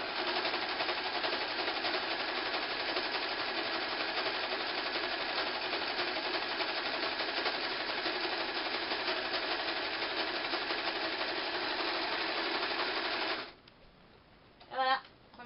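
Overlocker serger stitching a stretch seam while its small knife trims the edge, a steady rapid mechanical whir running for about thirteen seconds before stopping, followed by a few faint clicks and handling sounds.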